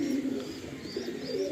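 A Kalpetia pigeon in a loft gives soft, low cooing while being handled, with a steady murmuring coo close by over a quiet room.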